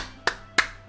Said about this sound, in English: I swear I'm clapping.